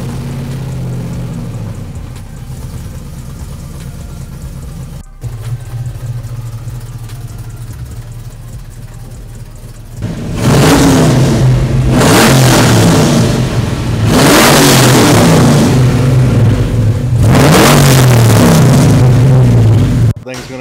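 A pickup truck engine turns over and starts, idles briefly, then revs hard in repeated loud surges, each rising and falling, close by.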